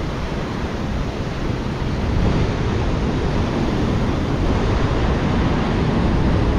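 Heavy ocean surf roars continuously and loudly at Seruni Beach, Pacitan, on Java's southern coast, a dense wash of crashing water mixed with strong wind buffeting the microphone.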